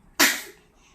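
A baby eating breakfast lets out a single short, sharp sneeze, a quick breathy burst close by in an otherwise quiet moment.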